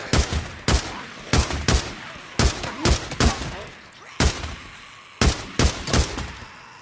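A light machine gun fires in Days Gone in short, loud bursts of two to four heavy shots, separated by brief pauses, close and alone with no talk.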